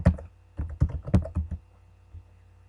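Clicky keystrokes on a computer keyboard while typing text into a Word document, quick bursts of close taps with short pauses between them, fading to a lone key press near the end.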